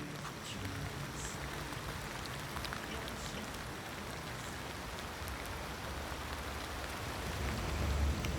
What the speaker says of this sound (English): It's raining, but it's actually quite comfortable because the rain kind of dulls the sound of the cars and such.